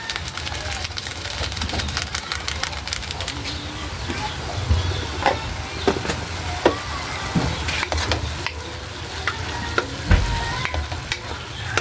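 Green beans sautéing in a pan, a steady close sizzle with frequent scraping stirs and clicks of a utensil against the pan throughout, no voices.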